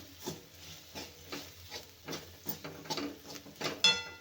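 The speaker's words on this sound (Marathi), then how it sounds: "मिक्स करून घेऊया" Paratha filling of potato, peas and cauliflower being stirred in a pan, with soft rhythmic scraping strokes repeating about twice a second, quiet and close.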